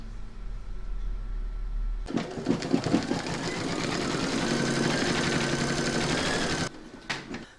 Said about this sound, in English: I'm now going to pop that back into my machine and stitch round number 2